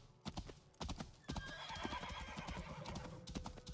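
Horse hooves clip-clop steadily at a trot in Assassin's Creed Origins, with a whinny rising over the quiet, even footfalls.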